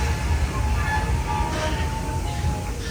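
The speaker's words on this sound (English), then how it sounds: "as we approach the station, please remain seated until the train comes to a full and complete stop" Walt Disney World Railroad train rolling toward a station, a steady, close rumble of wheels and cars running continuously with no break in the noise.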